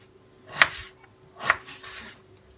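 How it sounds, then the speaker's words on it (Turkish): A knife dicing ingredients into cubes for a tray kebab, two distinct crisp chops against a cutting board about a second apart, with a softer cut after, close and clear with no talking. "Küp küp doğruyoruz"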